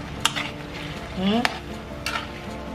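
Goat caldereta with tomato sauce cooks in a pan, a steady low sizzle broken by a few sharp clinks and scrapes of a utensil stirring against the pan, close by and without talk.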